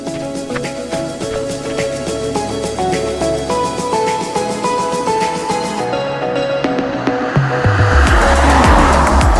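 A car revs and pulls away, its engine loud and close, building to a roaring surge with tire squeal near the end over a busy musical background, with no one speaking.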